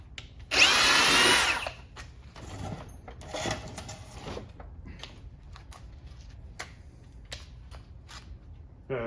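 A Ridgid cordless drill on an 8 amp 21700-cell battery bores into wood with a Diablo self-feeding auger bit, a loud roaring burst of about a second, then a weaker second run and scattered knocks and handling noises.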